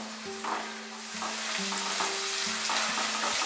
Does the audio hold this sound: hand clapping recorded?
no